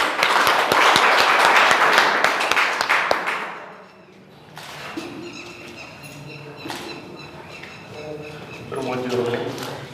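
A school result celebration crowd claps loudly for students' parents, dense applause for about three seconds that then fades out, followed by quieter room sound and talking.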